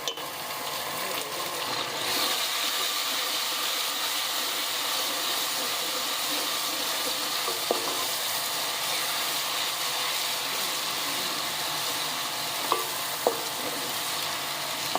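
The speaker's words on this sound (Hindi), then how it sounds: "सिर्फ 1 मिनट के लिए लहसुन अदरक को हमने भूनना है।" Ginger garlic paste fries with onions in a pan for potato and ridge gourd sabzi, giving a steady close sizzle and hiss throughout, with a few light clinks from stirring.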